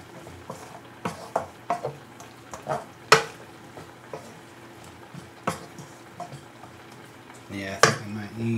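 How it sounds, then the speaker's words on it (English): A spoon stirs vegan spiced rice in a pan, giving close, scattered scrapes and knocks against the pan over a soft cooking hiss, with someone speaking now and then. "Let's just give that a stir."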